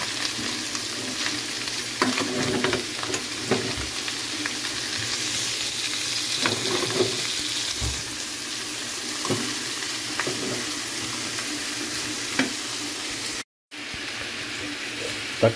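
Ground pork with vegetables sizzling and frying in a pan while being stirred, a steady close hiss with scraping stir strokes throughout and a brief dropout near the end.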